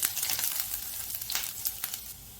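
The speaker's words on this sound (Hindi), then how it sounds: "अदरक और लहसुन इसमें अच्छे से सौते हो गए हैं, फ्राई हो गए हैं।" Finely chopped ginger and garlic sautéing in oil over a medium flame, a steady close sizzle with soft crackles and occasional brighter spits, heard alone.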